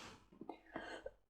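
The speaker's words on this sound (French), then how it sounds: "Je savais bien qu'à un moment donné, je finirais par tousser" A woman's cough rendered as a few short, soft throaty bursts in quick succession, fairly close and quiet, with no speech over them.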